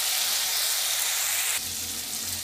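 Spiced fish curry masala with salt and turmeric hissing loudly in a hot pan as water is poured in, a steady dense sizzle that surges briefly and keeps bubbling without pause.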